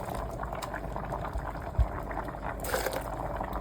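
Extra potato cooking liquid pours into a blender for a vegan soup, a soft, steady bubbling trickle with a brief thump near the middle and no talk over it.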